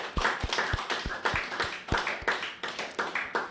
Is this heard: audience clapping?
yes